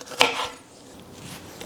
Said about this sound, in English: And then all I do is just roughly chop them.